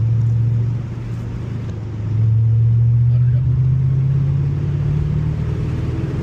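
Engine of a manual Ford Mustang GT while driving, a steady low rumble that swells as it pulls through the gears, loud and close throughout with no voices.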